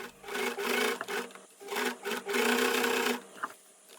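A sewing machine stitches a U-shaped seam on a fabric cross-body phone bag, running in several loud bursts with short pauses between them, with no voices.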